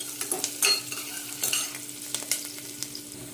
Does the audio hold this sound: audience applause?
no